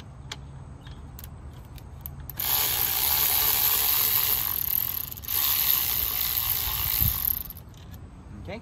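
A ratchet works bolts loose from the intake manifold of a 2006–2007 Honda Accord, making a dense, close clicking that runs for about five seconds with a brief pause in the middle.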